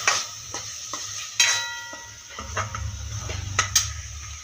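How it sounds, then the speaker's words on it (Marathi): Green peas tipped into a pan for aloo matar, with several sharp clinks and taps of a spoon against the pan and a low simmering sizzle building underneath, close and moderately loud. "तर मटर टाकून घ्यायचे आपल्याला।"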